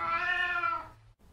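A cat gives one clear, close meow that lasts under a second and tails off into quiet room noise.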